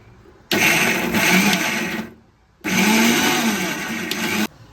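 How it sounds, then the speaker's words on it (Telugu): An electric mixer grinder pulses garlic, cumin and onion into a coarse paste for fish curry, two loud whirring bursts of about two seconds each separated by a short pause. "ఎల్లుల్లిపాయ, జీలకర్ర, ఉల్లిపాయ. సో ఇవైతే పేస్ట్ చేసుకోవాలి"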